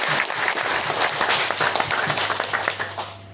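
An audience at a Deccan Healthcare company meeting in Ranchi, Jharkhand, breaks into dense, sustained applause, loud and close, then tapering near the end, with no talk over it.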